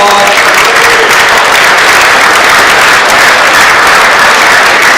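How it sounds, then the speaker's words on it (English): Dense, loud applause from a banquet-hall audience at a hall of fame induction event, steady and sustained throughout with no break. "Let's give them a round of applause."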